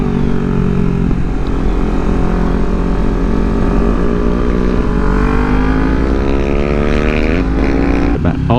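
A Kawasaki Ninja 400 motorcycle drones loudly and steadily on the move, cruising with the engine pitch rising through the gears, heard close up over rushing wind.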